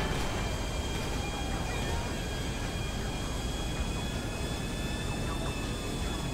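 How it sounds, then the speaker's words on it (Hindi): An airplane in GTA V roars steadily, a loud, continuous jet engine drone heard up close with no letup, and no talk. "वाह यार, इस गेम में मैंने हेलीकॉप्टर, बाइक और अब प्लेन"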